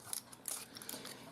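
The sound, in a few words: scissors cutting paper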